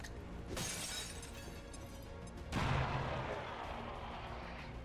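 A frag grenade detonates in XCOM 2: Long War 2 with a sharp blast, then a second heavier boom and a rolling, crumbling tail, loud and without speech.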